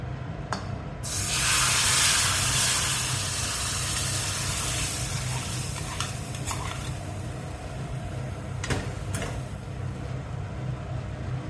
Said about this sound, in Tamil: தாளிச்சதை குழம்போடு சேர்த்து ஒரு தடவை நல்லா கொதிக்க விடணும்.